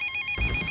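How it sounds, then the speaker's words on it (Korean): A telephone rings at a busy police precinct office during the year-end rush, a bright electronic trill pulsing rapidly, with a low rumbling burst of room noise joining halfway through. "신고 전화가 쉴 새 없이 울려대"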